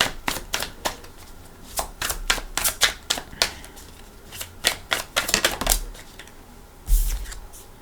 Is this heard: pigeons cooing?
no